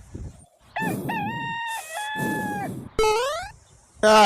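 A rooster crows several times in close succession, loud and near, the calls separated by brief gaps.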